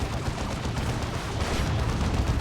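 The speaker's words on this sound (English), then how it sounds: "I'm gonna try and rocket launch him down the big boy" In the video game Warhammer 40,000: Dawn of War II, a dense, rumbling barrage of battle fire roars continuously, with rocket launcher blasts blending into the heavy explosive noise throughout.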